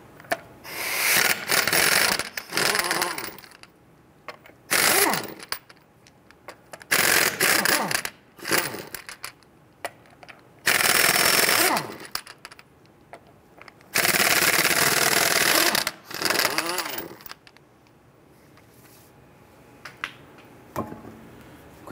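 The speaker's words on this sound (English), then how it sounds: "Using a 19 millimeter socket, loosen and remove your lug nuts." Socket wrench working lug nuts loose and off a rear wheel of a 1994-2004 Ford Mustang, heard as loud bursts of rapid ratcheting clicks and whirring, repeated several times with short quiet gaps between them.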